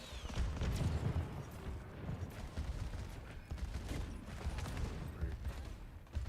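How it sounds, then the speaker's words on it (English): Bastion's ultimate artillery barrage in an Overwatch match: a dense, continuous roar of booming explosions and crackling gunfire-like blasts, loud and sustained for the full stretch with no clear gaps. "Wow, that's a quick Bastion ult."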